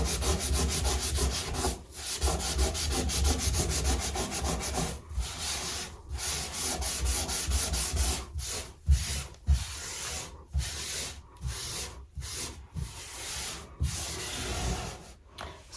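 Someone scrubs a bathtub surface by hand, producing a continuous close, coarse rubbing and scouring with brief pauses and sharper strokes toward the end.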